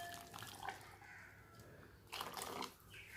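Boiling water poured from a vessel into a bowl of pineapple jelly powder, a quiet gurgling, splashing stream that swells near the end, faint and close with no talk.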